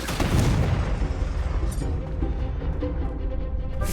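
A Confringo spell explosion in the Hogwarts Legacy video game, heard as a loud, deep boom that rumbles and fades over a few seconds.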